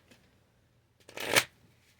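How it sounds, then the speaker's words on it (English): A deck of cards is shuffled once in a quick riffle, a brief crisp flutter of cards close to the microphone against a quiet room. "I'm just going to shuffle, and whatever comes out, comes out."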